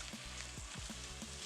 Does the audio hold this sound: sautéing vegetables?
yes